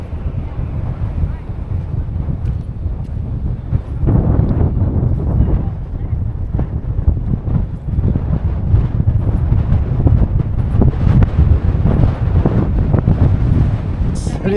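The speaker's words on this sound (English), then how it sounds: "It's windy as shit." Strong wind buffets the microphone outdoors beside the sculptures on the Canning Stock Route, a loud, continuous low rumble with gusts that swell from about four seconds on, masking everything else.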